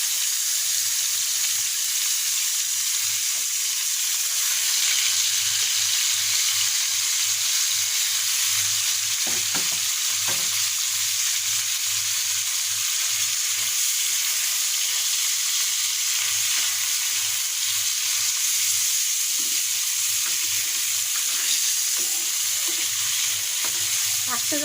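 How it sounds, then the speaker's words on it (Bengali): Koi fish fry in hot oil in a pan, a loud, steady sizzle that runs without a break, with occasional light clatter from stirring. "এখন আমি মাছগুলোকে আস্তে করে দিয়ে দিয়ে ফ্রাই করে নেব।"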